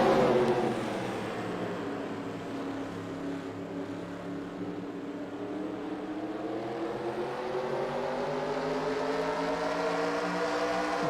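Race cars roar off the start of a heat race at Spencer Speedway: a dense, sustained engine drone rising and shifting in pitch as the field accelerates, heard from a distance with no talking.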